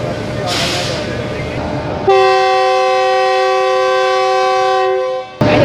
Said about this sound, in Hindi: 9012 शालीमार एक्सप्रेस के साथ खैर से जाओ